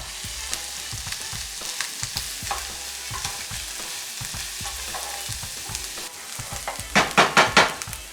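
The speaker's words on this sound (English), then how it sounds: "And saute them till soft." Onions sautéing in a pan, a steady soft sizzle with a spoon stirring and scraping now and then, and a few louder scrapes near the end.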